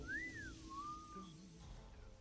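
Whistling in the video game Hitman 3, out in a farm field: one rising then falling melodic whistle phrase, moderately clear over a low ambient game backdrop, with no talk.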